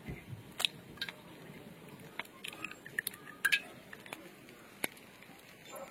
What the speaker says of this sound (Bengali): দুটো ডিম আমি ফাটিয়ে নেবো।